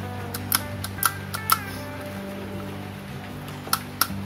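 Rotor of a Shimano Stella SW 4000XG spinning reel being turned by hand during reassembly, giving light, evenly spaced clicks and ticks over a low steady hum, close and fairly quiet.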